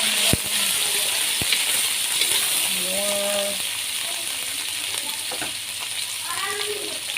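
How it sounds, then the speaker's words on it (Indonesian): Beef dropped into yellowed, frying spice paste for Betawi-style sour and spicy beef, hissing loudly in the pan while being stirred, with a few clinks of the utensil and a voice talking over it. "Udah menguning bumbunya, kita cemplungin dagingnya. Aduk-aduk."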